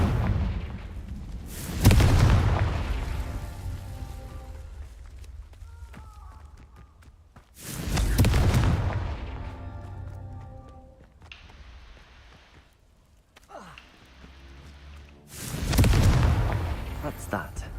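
Three deep, booming blasts of the Confringo fire spell in Hogwarts Legacy, evenly spaced several seconds apart, each rolling off into a low rumble, with lighter game effects between them.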